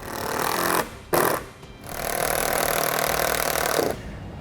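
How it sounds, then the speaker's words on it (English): A power driver with a 5/16 inch bit sinks self-tapping screws into brackets on an RV slide-out awning, producing loud, close, continuous whirring broken by brief pauses between screws. "Now we're ready to take a 5/16 inch bit driver. We're going to secure our connecting rods to the brackets with the self-tapping screws."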